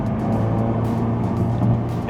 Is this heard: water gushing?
no